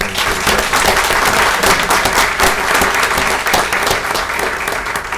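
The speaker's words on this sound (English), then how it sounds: "So can we give him a round of applause?" Steady, dense applause from an audience at a city council meeting, many hands clapping loudly and continuously without any talk over it.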